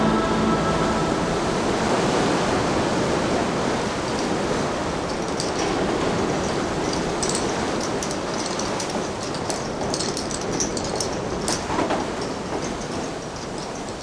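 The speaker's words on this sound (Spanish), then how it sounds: "El rugir de las olas enriscándose entre las rocas" Heavy surf crashing against the rocky shoreline of the Costa da Morte, a dense, continuous roar of breaking waves that fills the whole clip at steady loudness with no voices.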